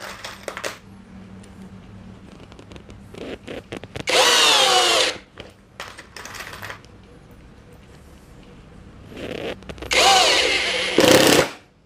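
JLD impact wrench loosening bolts: two loud sustained bursts of rattling hammering, each about a second long, with quieter clatter and handling noises between them.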